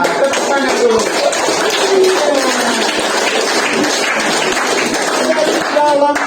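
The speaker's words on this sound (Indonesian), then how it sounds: "Tepuk tangan dulu" Children clap their hands in a motivational session, a loud, busy patter of claps mixed with excited young voices and chatter.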